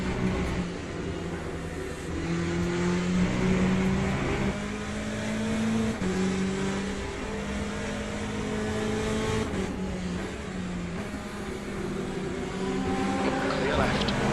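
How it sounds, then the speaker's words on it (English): Race cars in Le Mans Ultimate drone and rise in pitch as a faster car closes in, engine notes layered and shifting through gear changes, loud and continuous beneath a radio voice. "there's a faster car approaching"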